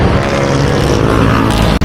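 Yamaha Mio 160cc motorcycle engine revved hard for a wheelie, a loud sustained roar holding steady before cutting out abruptly near the end.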